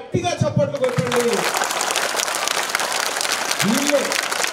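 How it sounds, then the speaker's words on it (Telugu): Students at a government school event in Yadagiripally, where shoes are being handed out, applaud their teachers with loud, sustained crowd clapping throughout. A voice speaks briefly over it at the start and again near the end. "ఒక్కసారి మీ టీచర్లందరికీ గట్టిగా చప్పట్లు కొట్టండి."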